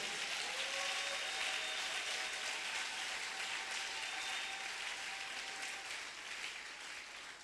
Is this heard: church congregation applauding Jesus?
yes